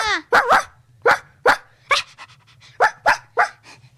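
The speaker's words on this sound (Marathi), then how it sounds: "हा कोणाचा कुत्रा?" A dog barks close by about ten times in uneven bursts, some quick doubles, with a low hum underneath.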